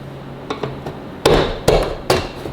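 A flathead screwdriver is wedged in to pry the door panel off a Jeep ZJ, making several sharp, close plastic cracks and knocks, three of them louder pops near the end. No one speaks.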